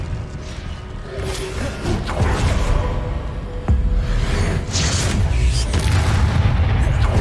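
Booming spell blasts and whooshes from Hogwarts Legacy combat, a dense run of loud explosions and magical impacts layered over continuous game noise.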